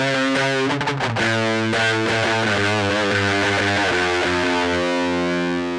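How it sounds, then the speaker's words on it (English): Electric guitar played through heavy distortion and effects, sustained, saturated chords ringing loud and dense, shifting and then held out alone. "Trying out new guitar tones."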